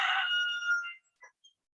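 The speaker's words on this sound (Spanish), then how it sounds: "El gallo ya se despertó" A rooster crows once in a single long call, moderately close and clear, followed by a couple of short clucks, with no talking over it.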